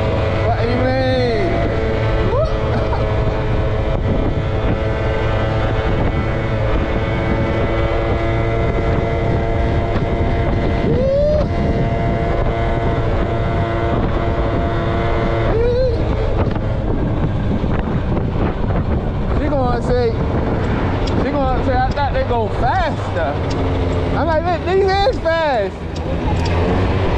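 A 50cc scooter rides out on the road, its engine a constant droning whine with wind rushing over the microphone, and people talk over it throughout.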